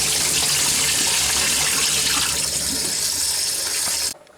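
Rice for biryani being rinsed under running water, a steady close gush and splash that runs unbroken for about four seconds, then stops abruptly.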